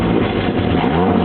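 A Volkswagen Fox revs through an opened exhaust that sounds like a muscle car, a loud, close, sustained growl filling the whole short stretch with no talking.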